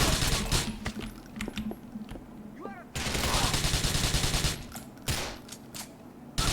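Rapid gunfire rings out in the video game GTA 4, with dense bursts and single shots crackling over a busy game soundscape, loud and close, while a voice speaks at times.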